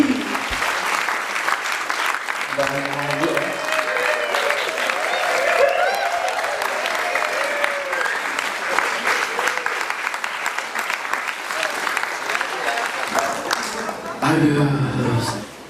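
An audience at a farewell party in Denpasar, Bali claps to welcome a guest to the stage, a dense, sustained applause running throughout, with a voice speaking briefly at the start and again near the end over the clapping.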